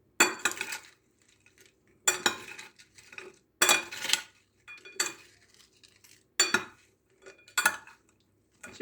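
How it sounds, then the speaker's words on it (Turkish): Two spoons clink and scrape against a bowl as fried potato salad is stirred, in repeated short bursts of metallic chinks and soft scraping with brief pauses between strokes, close and fairly quiet. "Şöyle alttan üzerine gelecek şekilde karıştırıyoruz."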